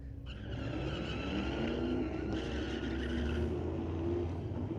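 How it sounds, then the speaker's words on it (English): A Ford Mustang Cobra races down a drag strip at a Friday night street legal drags event, its engine a loud, close, sustained roar with rising revving tones throughout. "Mustang Cobra."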